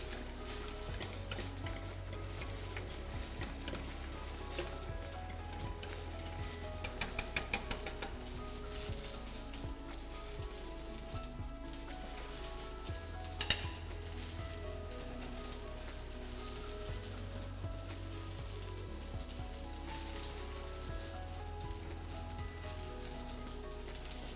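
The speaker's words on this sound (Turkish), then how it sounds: "Sıvı yağda kızartacağız." Potato sticks fry in hot vegetable oil on a TV cooking show kitchen, giving a continuous crackling sizzle with a few sharper pops, while background music plays underneath.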